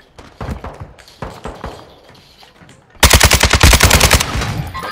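Bursts of automatic gunfire in Call of Duty: Modern Warfare II, a few scattered rapid shots followed by a loud, sustained rattling volley close by.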